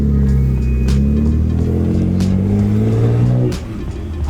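Nissan Skyline GT-R with a new Nismo short shifter pulling hard, a loud close engine drone rising steadily in pitch for over three seconds before easing off.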